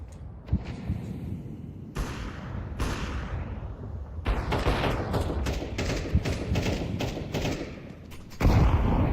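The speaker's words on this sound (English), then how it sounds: "I'm throwing the flashbang." Gunfire in the game Valorant around a thrown flashbang: loud bursts of close shots and thuds broken by short quiet gaps, growing into dense rapid fire before a heavy final blast.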